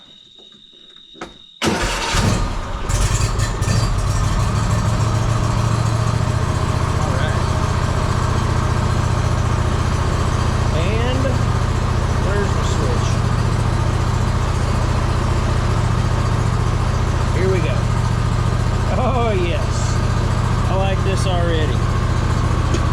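A Bad Boy Magnum zero turn mower engine cranks and starts after a brief quiet moment, then runs steadily and loudly for about twenty seconds close by while someone talks intermittently over it.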